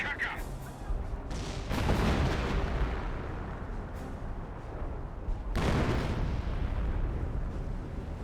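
Rocket artillery barrage in Company of Heroes, a series of loud, dense explosive blasts with rumbling impacts, one surge at the start and another around the middle, with a voice talking over the fire.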